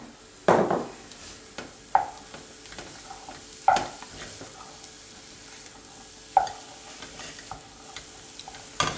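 Mushrooms and shallots cooking down in a pan, heard as a quiet stirring scrape with a soft sizzle underneath and a few sharp utensil clinks against the pan spaced through the stretch.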